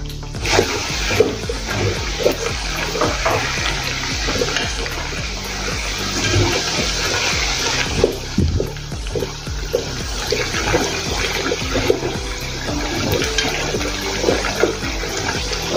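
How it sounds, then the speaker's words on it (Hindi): Papdi dough fries in hot oil over a medium gas flame with a steady, dense sizzle and bubbling, punctuated by light clinks and scrapes of a spoon stirring, with no talking. "मीडियम गैस पर ही इसको तलना है।"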